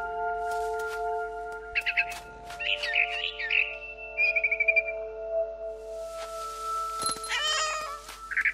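A cat meows in the video game What Remains of Edith Finch, several short pitched meows and a drawn-out call over a sustained tonal music drone, alongside chirpy bird-like calls.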